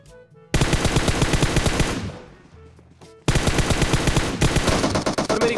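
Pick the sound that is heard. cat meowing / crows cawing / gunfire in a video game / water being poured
gunfire in a video game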